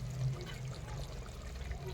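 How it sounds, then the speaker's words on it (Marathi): Hot water poured into a pot of mutton cooking on a wood-fired stove, a steady rushing pour that fills the whole two seconds at close range. "आपण याच्यामध्ये आता हे गरम पाणी केलेलं आहे ते सोडणार आहे"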